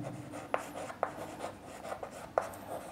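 Handwriting with pen on paper, a sequence of short scratchy strokes with a few sharper taps where letters are finished, close and quiet.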